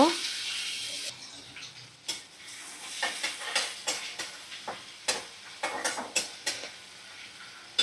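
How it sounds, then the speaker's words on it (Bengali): Onions fry in plenty of hot white cooking oil in a kadai, giving a soft steady sizzle broken by repeated scraping and stirring clicks, with no talking. "পেঁয়াজ বেরেস্তার মতো করে ভাজা করে নিচ্ছি।"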